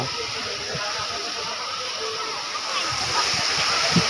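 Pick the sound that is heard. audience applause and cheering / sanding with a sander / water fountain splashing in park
water fountain splashing in park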